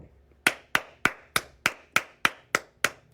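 Nine crisp hand claps ring out close and loud at a steady, even pace, each a sharp isolated slap with brief decay and no talking.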